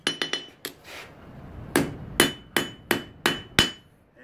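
A blacksmith's hammer rings sharply on steel while drawing down a knife bevel: a quick triple of blows, then a pause and a steady series of single strikes roughly every third of a second, close and loud.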